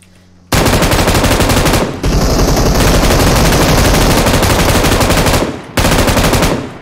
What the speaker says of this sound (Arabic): عندي طخطخة بالووتر سيتي